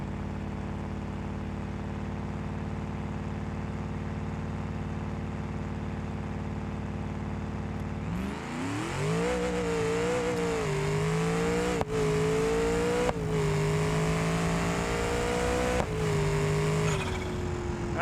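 A big block engine swapped into a German wagon in BeamNG.Drive idles with a steady low drone, then roars up in revs and bounces hard against the rev limiter in repeated surges, loud and close.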